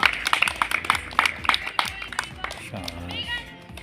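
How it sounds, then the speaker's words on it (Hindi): A group of children at a girls' gurukul in Narela clap loudly in a rapid, uneven burst, with an adult voice speaking over the applause toward the end. "जोरदार तालियां बजा दो एक बार"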